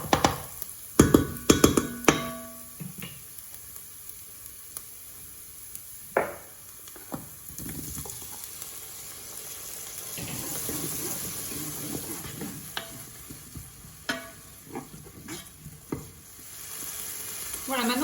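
Cherry tomatoes sizzle and fry in olive oil with browned onion and garlic, a continuous hiss punctuated by sharp clatters of a utensil stirring the pan near the start and scattered scrapes later.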